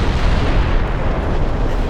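Battleship Richelieu firing its big guns point blank at Hood in the naval game Ultimate Admiral Dreadnoughts, a loud, sustained roaring blast that fills the whole moment without talk.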